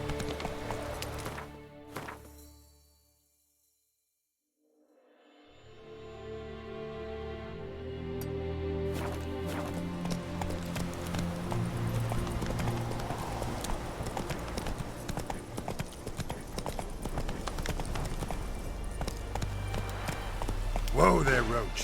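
Roach, a horse in The Witcher 3, gallops with rapid, rhythmic hoofbeats that start after a brief silence and run steadily to the end, loud and close, over a background of game ambience.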